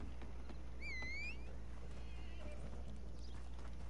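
A horse in a PS4 video game lets out one clear, high whinny, followed by softer faint neighing over a low steady background hum.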